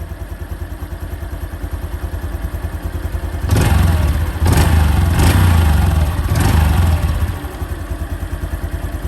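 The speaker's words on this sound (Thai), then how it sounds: "เดินเบาโคตรนิ่งนะเงียบคลิปเลย" A new 2023 Honda Wave 125i motorcycle engine idling with a steady, even chug, broken midway by a few short, louder blips of throttle before settling back to idle.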